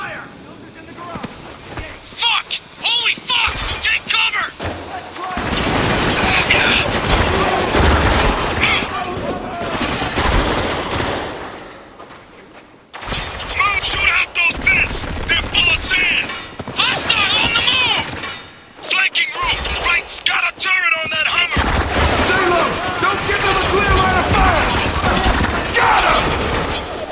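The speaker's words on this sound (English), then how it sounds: "We've been made! Open fire!" A firefight in the video game Spec Ops: The Line, with dense bursts of automatic and single gunfire, loud and close, broken by brief lulls and mixed with shouted voices.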